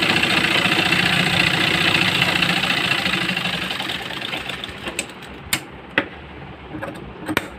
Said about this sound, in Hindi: किनारे की सिलाई दे देंगे।